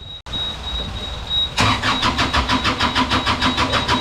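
A new Beta diesel boat engine cranks briefly, then catches and settles into a loud, steady rhythmic chugging idle close by, with no talking.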